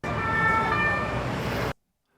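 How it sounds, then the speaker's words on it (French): A wailing emergency siren plays loud and steady outdoors in a street scene, holding its tone for under two seconds before cutting off abruptly into silence. "Alors pour le point de vue extérieur, j'ai ajouté en fait ici une sirène."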